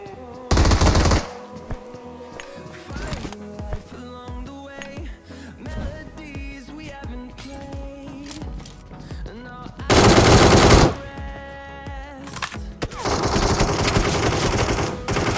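Automatic gunfire in the mobile shooter BGMI, with loud rapid bursts near the start and again around ten seconds, a longer stretch of firing toward the end, and game music and effects playing between the bursts.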